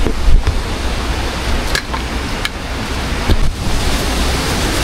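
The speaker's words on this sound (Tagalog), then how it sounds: "Malakas-lakas ang hangin." Strong wind roars at night during a typhoon as a steady, loud, broadband rush, with a few brief gusts and no talking.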